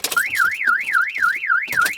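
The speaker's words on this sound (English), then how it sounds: "So if I set the alarm and try to start the car should not turn over and the alarm should trigger." A loud Mercedes Vito camper van alarm wails in a fast rising-and-falling siren pattern, with rhythmic pulsing bursts underneath, close by and continuous.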